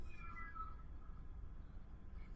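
Cat meowing in a Harry Potter and the Sorcerer's Stone movie scene, one faint drawn-out meow early on over a low rumbling soundtrack bed.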